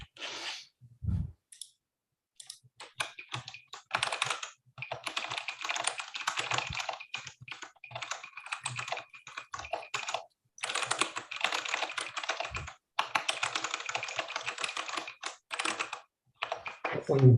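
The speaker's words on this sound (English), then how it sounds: "I really like the sound of a mechanical keyboard." Close-up clacky typing on a mechanical keyboard, bursts of rapid keystrokes separated by short pauses, with a few faint thumps.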